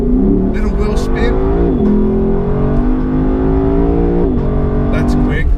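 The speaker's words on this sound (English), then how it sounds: "Time to put our foot down. Little wheel spin." A 2020 Lexus LC500 V8 accelerating hard from a launch with a little wheel spin, its loud engine note climbing through two upshifts, heard from inside the car with a voice talking over it.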